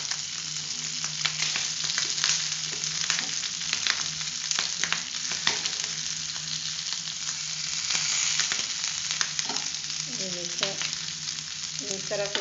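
Mutton and garlic roast in a pan over a lowered flame with a steady, dense sizzle and occasional stirring clatter, close and continuous with no talk.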